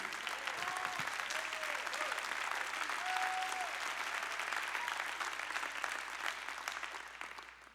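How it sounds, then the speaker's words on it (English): Church audience clapping during a sermon, a broad continuous round of applause from a large crowd, fairly distant and steady before tapering off at the end, with a few voices rising over it. "Clap your hands"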